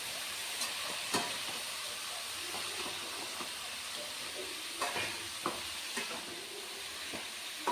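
Cauliflower and peas fry in a pan with a steady, broadband sizzle throughout, broken by occasional scraping taps of a stirring utensil; no one speaks.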